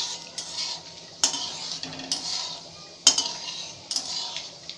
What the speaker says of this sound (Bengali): তো চলুন আমরা এখানে ফোড়ন দিলাম এলাচ আর দারচিনি।